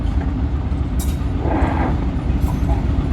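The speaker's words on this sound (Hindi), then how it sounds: "देखिए ये आ गई ना रेलगाड़ी, ये देखिए।" A train pulls into a station, a steady low rumble of railway cars running close and continuous, with brief brighter squeals riding over the heavy drone.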